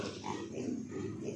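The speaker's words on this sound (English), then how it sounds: "The small pigs are all fine." Pigs on a farm grunt and snuffle up close in a loud, continuous, busy mass of low noise, with one brief higher squeal near the start.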